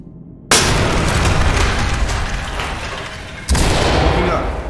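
Grenade going off in the tactical shooter Ready or Not: a loud sudden boom followed by a rumbling roar, then a second heavy blast a few seconds later, both close and dominant.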